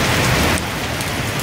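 Heavy rain pours down at a mountain fortress, a dense, steady hiss of drops drumming on surfaces, loud and unbroken throughout, with no one talking.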